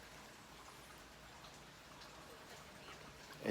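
Steady rain on a cool summer day, a soft even patter of drops falling continuously with no voices.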